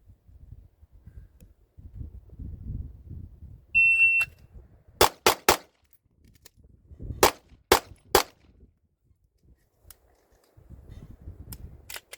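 Sharp, loud Staccato HD pistol shots fired on a USPSA classifier stage: a short electronic shot-timer beep, then a quick burst of three shots, a pause for the reload, and three more rapid shots, with faint movement noise around them.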